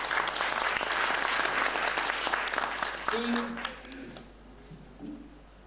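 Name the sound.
audience applause at a quiz show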